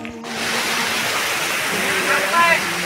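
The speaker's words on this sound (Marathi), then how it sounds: "धनगरवाडा सोडल्यानंतर असा एक ओढा लागतो पाण्याचा" A water stream flows steadily beside a trekking trail between Panhala and Pavankhind, a loud, constant rushing wash close by, with some faint voices and a brief whistle-like tone near the end.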